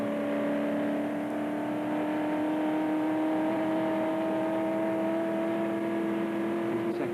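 Onboard engine of a 1968 Le Mans racing car at sustained high speed on a fast straight toward the Indianapolis corner, a loud steady drone with rising harmonic pitch as it accelerates, continuous throughout with no talk.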